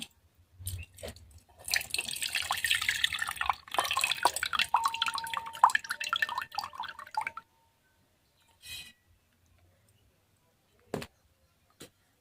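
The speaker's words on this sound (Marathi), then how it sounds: "तर आता आपण हे पाणी काढून घेऊ" Soaking water is poured off barnyard millet that sat in water for an hour, a close splashing and dripping pour lasting several seconds, then a few isolated drips and clinks after it stops.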